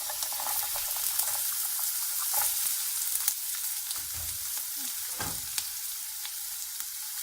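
Onions frying in oil give a steady, close hiss and crackle, with a few light clinks and stirs over the continuous sizzle and no talking.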